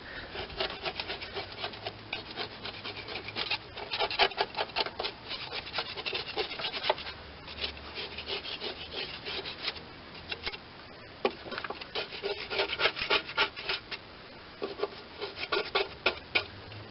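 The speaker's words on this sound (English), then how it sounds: "let's scrape the deck a little bit, get a little bit of that dried grass off the bottom there" Dried grass being scraped off the underside of a Toro self-propelled mower deck, a close, steady series of rough rubbing and rasping strokes repeating for the whole stretch with brief pauses between bursts.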